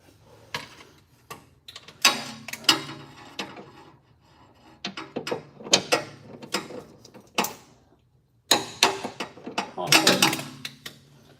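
A torque wrench ratchets in bursts while tightening mounts, close-up clicking runs separated by short pauses, with speech mixed in.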